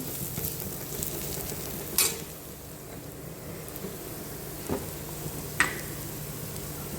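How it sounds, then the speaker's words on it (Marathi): Spiced sandwich filling sautéed and stirred in a pan: a steady low frying sizzle runs throughout, broken by a few sharp scrapes and clinks of the spoon against the pan. "आता ह्याला हलवून घेते, एकदा परतून घेते"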